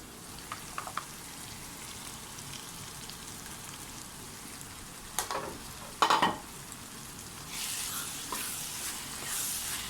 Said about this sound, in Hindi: अभी इसमें मैंने जो ये बैंगन मैश किए थे वो मैं डाल रही हूँ।